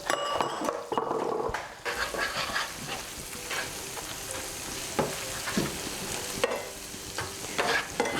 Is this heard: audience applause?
no